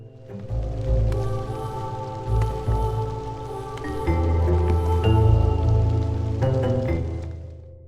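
Drizzle in the video game Against the Storm: a soft, continuous patter of rain with scattered drips, layered over a steady tonal game soundscape, with no voices.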